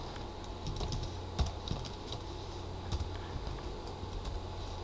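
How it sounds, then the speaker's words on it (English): Fingers type an IP address on a computer keyboard, a run of faint, quick key taps over a steady background hiss with a couple of slightly firmer presses, and no voice. "So you type in the IP address over here."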